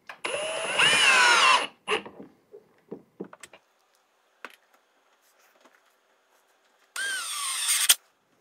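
A power drill drives screws into a Leigh dovetail jig base in a workshop, in two short bursts of whirring at the start and end, with quiet clicks and handling knocks in between.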